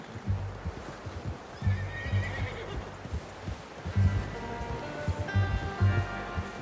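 A horse in the Red Dead Redemption 2 video game whinnies and snorts up close, with soft hoof clops and low rustling underneath and a couple of bright neigh calls rising over the steady background.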